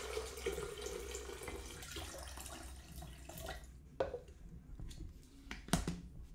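One liter of water pours into a container of soybeans, sugar and salt for homemade soy milk, a steady splashing stream that stops partway, followed by a few faint drips and clinks.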